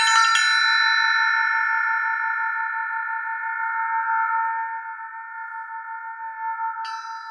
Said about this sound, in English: I don't know why this is called an elephant bell